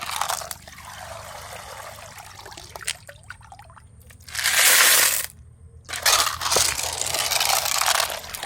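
Wet squelching and squeezing with liquid trickling and splashing into a container, in bursts with brief pauses between.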